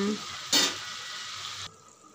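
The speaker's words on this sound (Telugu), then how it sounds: "ఇప్పుడు దీన్ని కాసేపు మనం ఫ్రై అవ్వనిద్దాం" Prawns and onions fry in a pan with a steady close sizzle, a sharp burst of hissing about halfway through, then the sizzle drops quieter near the end.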